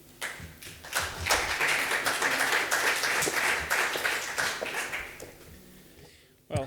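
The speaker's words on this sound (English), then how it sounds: "Please give a warm applause for the last speaker of this symposium" Symposium audience applauding a speaker, a moderate, fairly distant wash of clapping that swells quickly, holds for several seconds and tapers off, with some murmuring voices underneath.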